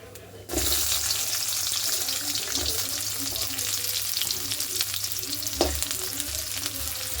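Small shallots and garlic hitting hot groundnut oil with fenugreek and fennel for needle fish curry, an abrupt loud sizzle that settles into steady close frying hiss with an occasional stir, no voices.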